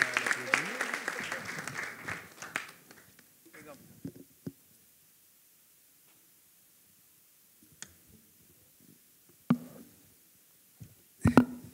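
Applause from a conference panel audience on women-owned startups in Africa rises briefly for a couple of seconds, then dies away into near quiet broken by scattered isolated claps and clicks.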